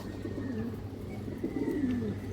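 Healthy pigeons coo steadily in a loft, soft low calls rising and falling over a constant background hum, with occasional faint chirps mixed in.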